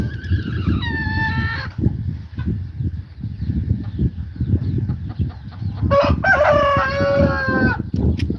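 Hens clucking and squawking in drawn-out, rising calls, one burst early and a louder one later, over low rustling background noise.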